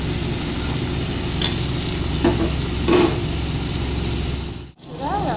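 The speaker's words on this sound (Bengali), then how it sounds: "এটাকে ভালো করে লাল করে ভেজে নেব।" Onions frying in a pan for a home-style rajma, with a steady close sizzle and a few louder stirring scrapes, no talking, briefly cutting out near the end.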